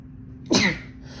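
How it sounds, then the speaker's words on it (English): A single sharp human sneeze bursts out close to the mic, short and explosive, then fades into a quiet room. "hang on, I gotta sneeze."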